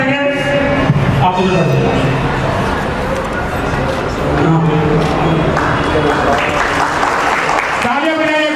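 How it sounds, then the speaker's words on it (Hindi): Sustained loud applause and crowd noise fill a gathering in the courtyard of the Kalkaji temple, welcoming a guru, with voices talking and calling over the clapping throughout. "तालियां बजाइए"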